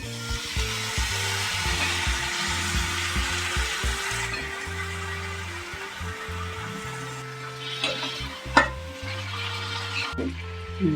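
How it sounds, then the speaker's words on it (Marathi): Potatoes tipped into a hot pan for a capsicum-and-potato stir-fry and stirred, giving a steady, close sizzle of frying with repeated scraping knocks of the spatula against the pan. "आता बटाटा टाकून घेऊया"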